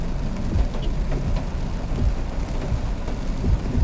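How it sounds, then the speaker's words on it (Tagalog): Heavy rain pours steadily outdoors on a flooded street, a dense low roar with deep thunder rumbling beneath it throughout. "Napakalakas ng ulan."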